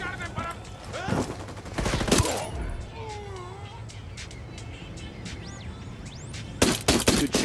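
Gunfire in the video game Ghost Recon Wildlands: dense volleys of loud shots around the first two seconds, a quieter stretch of scattered distant pops, then another heavy burst at the end.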